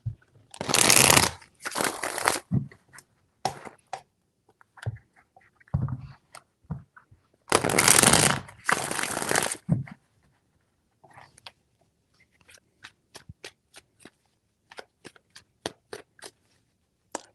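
Tarot cards shuffled by hand in three brisk riffling bursts, each a dense papery rush lasting about a second, followed by scattered soft taps and clicks as the deck is squared; no talking over it.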